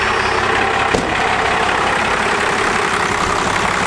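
Cummins diesel truck engine idling with a steady, loud, even rumble, a single brief click near the start, no talking.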